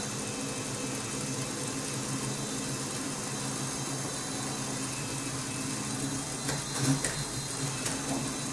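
Steady mechanical running hum of a Meccano model crawler tractor in second gear, a constant motor whir with faint ratcheting gear texture, close and even throughout with a slight bump near the end.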